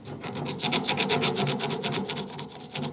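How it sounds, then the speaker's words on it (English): Rhythmic rasping strokes of a tool scraping rust and paint off a rear disc brake part on a 2016 Chevrolet Suburban, steady and close with no talking. "Get in there, we'll scrape that out good."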